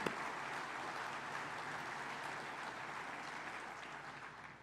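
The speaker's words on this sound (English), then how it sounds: "Please give them all another round of applause." Audience applause at the opening ceremony of the Arizona State Fire School, a steady wash of clapping heard faintly and from a distance, holding evenly throughout.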